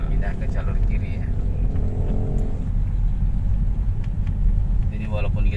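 Car driving on a road during a driving lesson, a steady low engine and road rumble filling the cabin at moderate speed, with voices talking over it.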